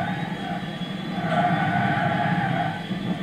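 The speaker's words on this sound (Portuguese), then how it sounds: "Apesar de ser um carro elétrico e ter aqueles zumbidos típicos de carro elétrico." A Mitsubishi i-MiEV electric car driven in Gran Turismo 6, heard from the interior view, gives a steady high electric whine over a constant rumbling road and motor drone, with no speech.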